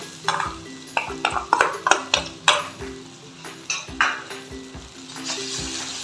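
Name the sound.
mixing fish curry with tomato, onion, ginger-garlic paste, kalonji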